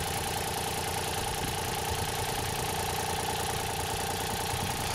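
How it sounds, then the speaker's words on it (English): A canal boat's engine runs steadily at idle, a constant close mechanical drone with a faint knocking rhythm and no pauses or voices over it. "With the engine running and the meter on the job, it didn't take long."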